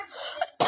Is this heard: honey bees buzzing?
no